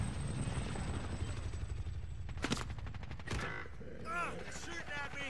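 Call of Duty Warzone gunfire crackles in short bursts over a constant droning helicopter rotor, the shots close and sharp against the steady engine roar, followed by game chatter.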